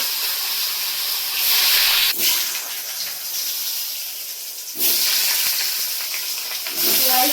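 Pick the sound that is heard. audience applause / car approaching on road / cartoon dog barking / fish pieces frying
fish pieces frying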